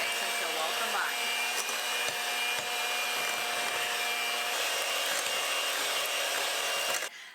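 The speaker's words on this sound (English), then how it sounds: "Then we're going to use our hand mixer again. Mix until well combined." An electric hand mixer beats banana crumb cake batter in a steady, loud, continuous whir close by that cuts off abruptly at the end.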